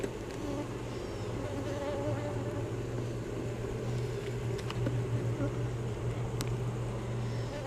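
Honey bees swarm around an open hive during an inspection, their dense, steady buzzing droning on throughout with a few faint clicks and knocks mixed in.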